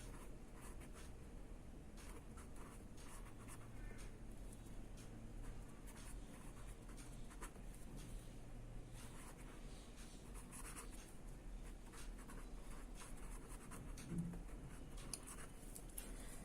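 Chalk or marker scratches across a classroom board in short strokes and taps, faint and close, over a steady low room hum.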